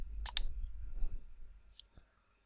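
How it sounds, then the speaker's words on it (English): Mouse clicks while navigating the Windows 10 Start menu and Settings: two quick crisp clicks close together near the start, then a couple of fainter single clicks, quiet and close, with no talk. "go to or click start, then click settings"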